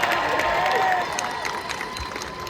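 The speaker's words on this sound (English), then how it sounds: "Give him a big giant round of applause." An outdoor crowd at a Renaissance festival birds of prey show applauds and cheers in a steady wash of clapping, with faint voices and a thin whistle-like tone mixed in.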